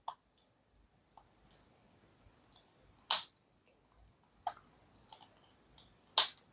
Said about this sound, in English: it's a click at every turn